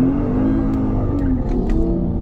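A Lexus ISF pulls away from a standstill, its engine note holding loud and close and rising slightly over about two seconds, ending abruptly.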